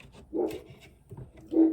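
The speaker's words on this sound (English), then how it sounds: "Sorry about my dogs." Dogs bark indoors in two short, fairly loud bursts about a second apart, with quieter whimpering noises between them and no talking.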